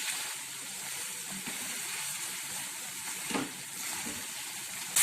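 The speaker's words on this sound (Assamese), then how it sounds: "এয়া চাওক ধুনিয়াকৈ ফ্ৰাই হৈ গৈছে আৰু ওপৰে ওপৰে তেলটো উঠি গৈছে" Potatoes and pui shak stems fry in mustard oil in a pan, giving a soft, steady sizzle and hiss that stays constant and close, with one brief clatter near the end.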